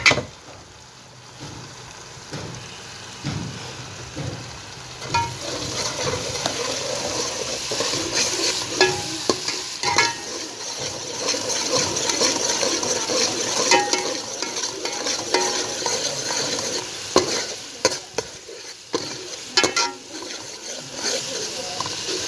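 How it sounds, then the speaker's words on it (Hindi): Aloo kofta gravy masala sizzles and fries in a pan while being stirred, a dense continuous crackle with scraping stir strokes, loud and close, with a person talking at times. "अब ये हम अच्छी तरह भून लेंगे।"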